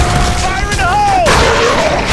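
A grenade blast in the video game Gears of War 3 sounds as a loud, dense boom under a broad roar, with a warbling voice-like tone over the top, continuous for about two seconds.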